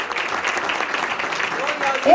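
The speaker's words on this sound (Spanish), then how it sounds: "Regálele fuerte ese aplauso al Señor" Church congregation applauding steadily throughout, a broad even wash of clapping with a slight swell near the end, joined by a brief rising vocal sound at the close.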